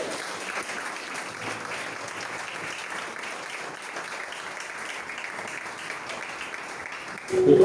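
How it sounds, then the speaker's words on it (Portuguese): Church congregation applauding their cell group leaders, a steady even wash of clapping from many hands filling a large room, sustained throughout with a louder swell at the very end. "você pode aplaudir os líderes de célula dessa igreja?"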